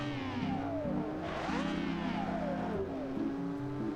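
A loud 35-horsepower V12 engine in a short-wheelbase, all-wheel-drive vehicle revs hard, its stacked droning tones rising and falling as it accelerates, close and continuous, with faint talking.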